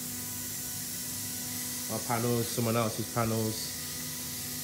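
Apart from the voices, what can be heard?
spray painting motorcycle panels at a body shop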